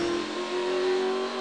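A NASCAR Sprint Cup race car engine at the Coca-Cola 600 in Charlotte runs with a steady, strong mid-pitched roar for a brief moment after firing back up.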